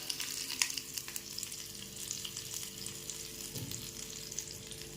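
Cumin, mustard seeds, chilli pieces and curry leaves crackle and sizzle in hot oil for a tadka, a steady close frying hiss with small pops and a brief stir partway through, no talking.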